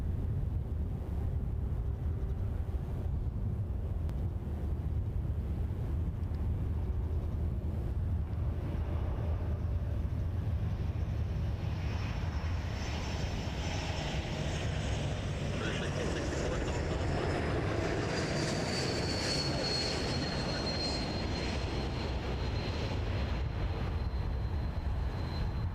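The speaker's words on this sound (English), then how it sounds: "Air Canada 1038 A220 from Denver" An Air Canada Airbus A220 airliner at Toronto Pearson airport produces a loud, steady jet roar that builds with a rising whine, while a voice talks over it.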